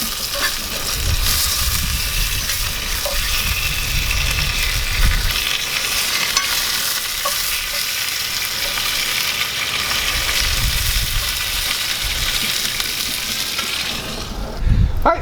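Smoked chipotle bacon fries crisp in a skillet with a loud, constant sizzle and crackle close up, low bubbling surges coming and going, and a faint scrape near the end, with nobody talking.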